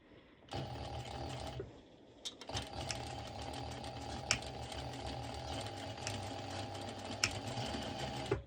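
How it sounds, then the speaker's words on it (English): Sewing machine running a straight stitch on a violet crop top, a steady close mechanical whir in two runs with a brief pause between, no talking. "I am going to be stitching it like that, the same straight stitch"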